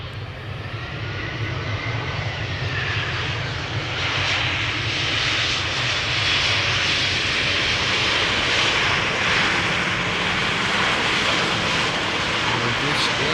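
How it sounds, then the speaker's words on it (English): A Lufthansa Airbus A319, about 20 years old, arriving from Munich at Amsterdam Schiphol, its engine roar swelling steadily and growing louder and brighter as it draws near. "This is Lufthansa flight 2302 arriving from Munich, A319."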